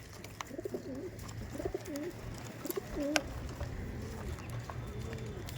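A flock of Rampuri pigeons coos near at hand in repeated rolling phrases over steady background noise, with scattered sharp clicks and faint voices.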